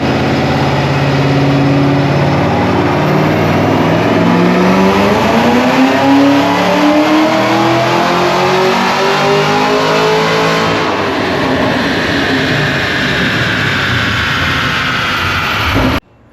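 A 2022 Chevy Camaro ZL1 1LE with KMS Stage 2 upgrades roars through a dyno pull, engine pitch climbing steadily as it revs hard for about fifteen seconds, loud and close, before cutting off abruptly at the end.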